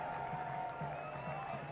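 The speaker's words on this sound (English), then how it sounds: "And garners a tremendous applause" Stadium crowd applauding at a Union Omaha versus One Knoxville SC soccer match, a distant, steady wash of clapping and murmur, faint and continuous.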